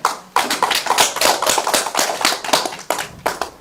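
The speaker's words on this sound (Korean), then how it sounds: "박수로 환영해 주십시오." An audience at a poetry event claps to welcome a poet, the clapping close and sharp with individual hand strikes standing out in an uneven rhythm.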